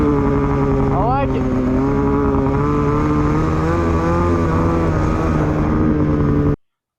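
A Polaris 850 snowmobile engine fitted with an SRP clutch kit drones loudly and steadily at high revs, with a brief rising blip early on before the sound cuts off abruptly at the end.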